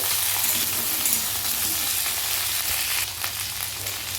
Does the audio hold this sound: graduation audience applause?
no